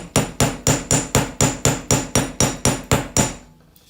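Jewelry wire is struck with a small hammer on a steel bench block, giving about a dozen loud, ringing metallic blows at a steady, even rhythm before fading out.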